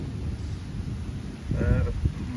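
A low thunder rumble from a nearby lightning strike in a storm over Metz swells up about two-thirds of the way through, over a constant wash of wind and rain noise.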